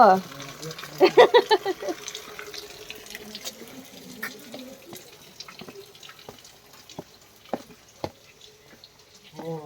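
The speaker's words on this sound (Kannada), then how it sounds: "ಸೌಂಡ್ ಕೇಳಿಸ್ತಾ ಇದೆ ಫಾಲ್ಸ್ದು." Steady trickle of running water from a small waterfall with low water near Bangalore, with splashing and drips, fairly faint, and a voice briefly heard near the start.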